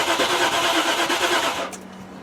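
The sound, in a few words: Range Rover engine cranking with ignition key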